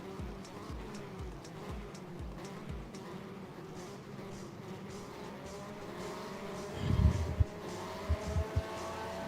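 Unlimited banger race cars running as a pack on the Yarmouth oval: a steady distant engine drone with rhythmic pulsing, and a louder rumble swelling as cars pass near.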